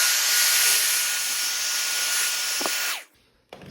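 Steady broadband rush of a heat gun warming a carbon fiber car mirror cap to loosen it for removal, loud and continuous for about three seconds, then cut off abruptly with a brief clunk after.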